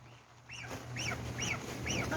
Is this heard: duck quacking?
yes